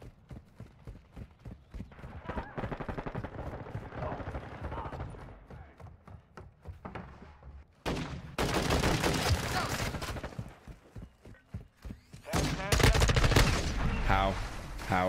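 Rapid automatic gunfire in Modern Warfare 2 comes in dense bursts, loudest in two stretches toward the end, mixed with game effects and occasional speech.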